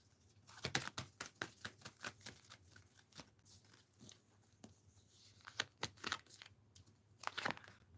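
Tarot cards being shuffled up close, with a quick run of crisp riffling and slapping taps, each pass fairly sharp against a quiet background, with no talking.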